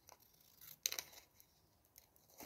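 Scissors snip scrap paper off a craft envelope tuck project, a few quiet, close, crisp cuts spaced apart with soft paper rustle between them.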